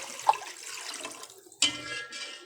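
Water pours into a pot of leftover salan while making shola, a short splash near the start followed by a louder, sustained pour that runs to the end, close and unaccompanied by talk.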